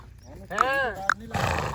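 A mare neighs with a clear, rising-and-falling whinny up close, followed by a short snort and some rustling, with background noise throughout.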